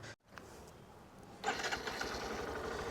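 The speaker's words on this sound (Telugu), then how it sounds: "సో బండి అయితే నేను స్టార్ట్ చేసి ఉన్నాను" A Hero Glamour motorcycle engine cranks and catches, then keeps running at a steady idle, close and fairly loud.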